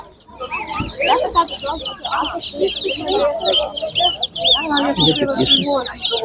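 Chickens at a Ukrainian poultry market cluck and squawk in a busy, overlapping crowd, loud and close, with voices talking among the birds.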